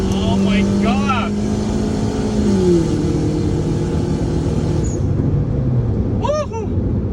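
A Perodua Kelisa with a bolt-on turbo making 270hp accelerates hard in a street race, its engine note droning steadily and rising in pitch through gear changes, with excited voices shouting over the loud, continuous engine roar.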